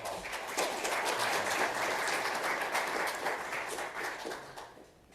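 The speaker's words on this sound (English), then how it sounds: "Let's give Adrienne and Sarah another round of applause." Audience applause for two presenters at a water and sanitation conference session, a dense steady wash of clapping that holds for several seconds before fading out near the end.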